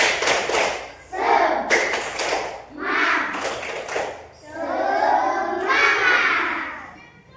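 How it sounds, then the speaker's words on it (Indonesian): Schoolchildren in a classroom do a rhythmic spirit clap, with bursts of clapping and thumps mixed with their shouted chanting in a repeated pattern. "Coba tepuk semangat dulu kita."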